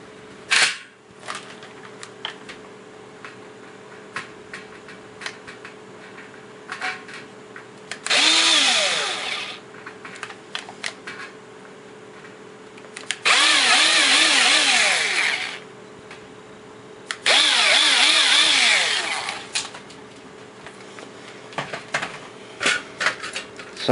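A power drill with a drill bit bores out the tacks holding the faceplate of a first-generation Xbox 360. Three loud whirring bursts of a few seconds each are separated by quiet stretches of small clicks and handling noise.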